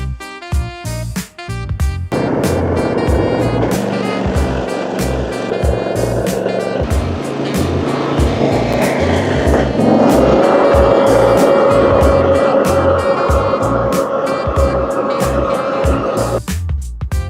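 A riding lawnmower drives across a lawn while cutting grass. Its engine roars loudly and steadily for most of the clip, with a rising whine partway through.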